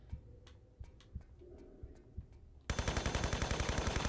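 Gunfire in Tomb Raider 3 Remastered: scattered single shots echo at first, then a loud machine gun bursts in with a fast, steady rapid-fire rattle.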